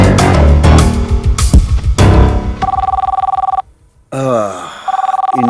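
A telephone rings with an incoming call from India, a loud electronic ring in repeated pulsing bursts that follows a swell of dramatic music and briefly drops out before ringing again.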